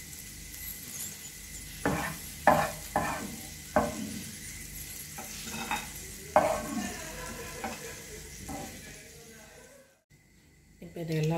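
Cashews and raisins stirred and fried in ghee in a pan for a wheat rava laddu, giving a close, steady sizzle broken by repeated scraping stirs, with talk over parts of it before a brief quiet gap.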